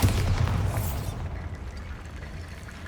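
A deep, rumbling blast from the Bombarda explosion spell in Hogwarts Legacy, loud at first, then decaying into a long low roar with debris-like hiss.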